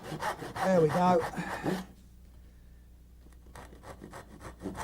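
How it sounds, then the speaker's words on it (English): A hand saw cuts dovetail joints in wood with quick rasping back-and-forth strokes, then pauses while someone briefly speaks before the sawing resumes. "We've sawn in."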